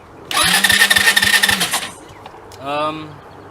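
A Hammerhead 250 SS engine after a tune-up cranks with rapid rhythmic pulses, then catches and roars loudly up close for over a second before dying away. A brief voice-like sound follows.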